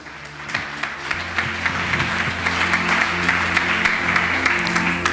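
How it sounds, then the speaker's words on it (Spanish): Applause from a church congregation fills the space, steady and sustained with scattered sharper claps over a low hum of organ or keyboard tones underneath. "Denle un aplauso al Señor."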